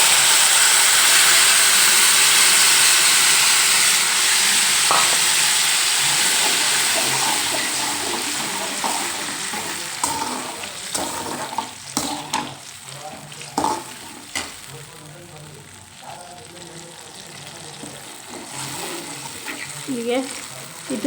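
Puliyogare tamarind syrup mix boils and sizzles in a pan, a loud hiss that gradually settles into bubbling with scattered pops and stirring scrapes, alongside some quiet talk.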